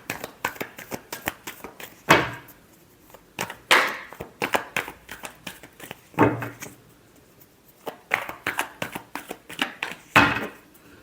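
Tarot cards shuffled by hand in quick, crisp bursts of riffling and slapping, loud and close, each flurry followed by a brief pause, with no talk.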